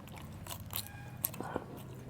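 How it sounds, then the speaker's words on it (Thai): Stewed beef tendon is bitten and chewed up close, giving a few soft, wet crunches and squishy bites over low background noise. "กัดเป็นท่อนเลยกัดเป็นชิ้นเลยปะเนี่ย"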